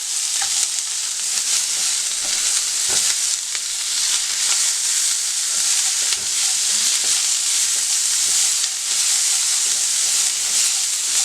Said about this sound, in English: You're just going to saute these up till they get translucent